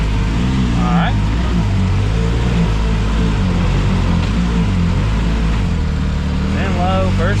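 A 2024 Can-Am Maverick R side-by-side crawls slowly in low first gear with a loud, steady engine drone, while people talk over it throughout.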